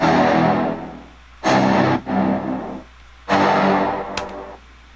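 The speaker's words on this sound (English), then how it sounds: "like instrument wise, this brass that hits" Three loud, sustained brass stabs blare in turn with short gaps between them, each swelling and fading, close and bright.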